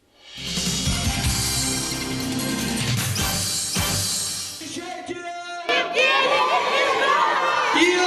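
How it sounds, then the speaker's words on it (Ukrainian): A large crowd of fans at a concert for a young singer cheers and chants his name in loud, sustained bursts, with voices shouting across the hall and a swell of noise that rises again near the end. "Шквал аплодисментів, скандування імені та позитивний настрій"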